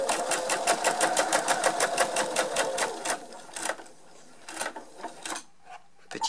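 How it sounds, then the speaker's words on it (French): Sewing machine stitching the short ends of a fabric shopping bag, a fast steady run of needle strokes for about three seconds, then a few shorter bursts with pauses between them. "on va coudre les extrémités, les petits côtés."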